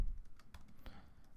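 Fingers type on a computer keyboard, a quick run of soft, close key clicks and taps in an irregular rhythm, fairly quiet with no talk over them.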